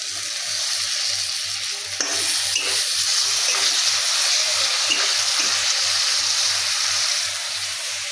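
Spice paste of ground ginger, garlic and onion with chili powder frying in a pan, a bright steady sizzle with a rhythmic low stirring knock repeating throughout, close by.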